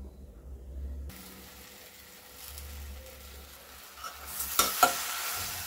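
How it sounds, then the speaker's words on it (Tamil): Cut nendran banana pieces are tipped into a pot and stirred, giving a quiet low scraping and shuffling that ends in a couple of sharper clinks of the spoon against the vessel. "நம்ம வச்சுருக்கிற கட் பண்ணி வச்சுருக்கிற பழத்தை இதில் போட்டுக்கலாம்."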